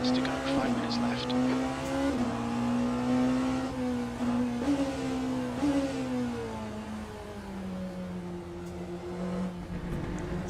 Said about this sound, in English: Car approaching